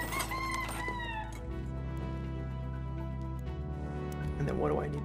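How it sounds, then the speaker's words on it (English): A chicken clucks and a rooster crows in the video game ARC Raiders, with bird calls at the start and again near the end over a steady low hum. "Talk to the bird."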